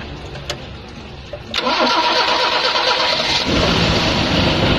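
A car engine cranks briefly, catches with a click, then settles into a steady, loud running rumble close by, after its radiator is refilled with water.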